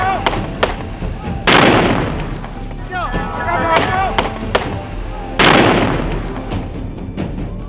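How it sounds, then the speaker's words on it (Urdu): Sudden gunfire and a heavy blast at a crowded political rally beside a vehicle, loud broadband bursts recurring amid crowd noise and shouting voices, with two dominant thunderous impacts standing out. "یکایک فائرنگ اور پھر شدید دھماکہ۔"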